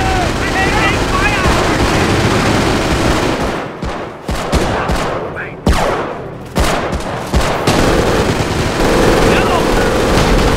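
Sustained gunfire fills a Company of Heroes battle with the King Tiger tank, dense machine-gun bursts and rapid shots crackling loud and continuous, with brief lulls broken by sharp cracks.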